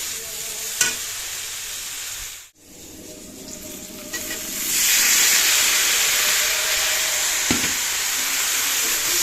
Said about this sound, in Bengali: বেগুনগুলো একটু হালকা নেড়ে নিয়ে তারপরে শাকগুলো দেবো